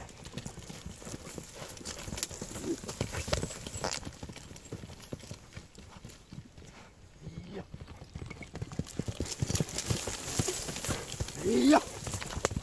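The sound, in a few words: horse hooves clip-clopping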